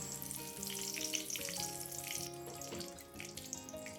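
Curry leaves and broken dried red chillies hit hot coconut oil with popped mustard seeds while making sambar, a bright crackling sizzle close up with a steady hiss underneath.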